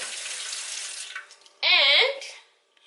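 Water pours from a tap into a container as a small amount is added to jollof rice seasoning, a steady close hiss followed by a brief louder gushing burst that stops abruptly.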